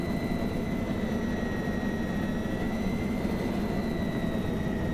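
Airplane engine in a video game, a steady loud jet-like drone with a constant low rumble and faint high whine throughout, no speech.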